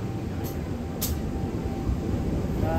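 Low rumbling of a train hauled by locomotive 8917 PWT, with steady mechanical noise, brief hissing bursts, and a faint tonal whine, heard from nearby in Surabaya without talk.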